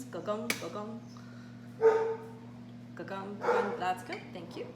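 Pet dog in a home kitchen during cooking, giving a few short barks and yips mixed with soft whimpers, close by and moderately loud, while someone speaks and a steady appliance hum runs underneath.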